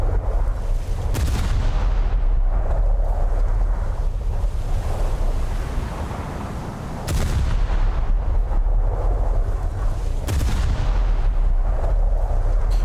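Naval guns fire in the War Thunder video game as heavy booms burst out at intervals, roughly three big blasts over a constant roar of wind and sea, loud and close with long rumbling tails.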